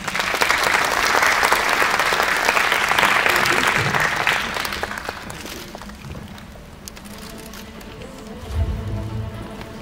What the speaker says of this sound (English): give Mr. George Miller a huge round of applause for being here with us today